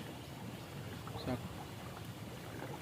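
A steady wash of water and wind noise from a boat moving along a river between two hills at Dawki, Shillong, fairly faint, with a brief soft voice in the middle.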